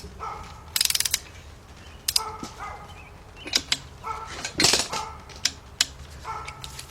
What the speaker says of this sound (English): I got my torque wrench set at 12. I'm going to start with the middle one.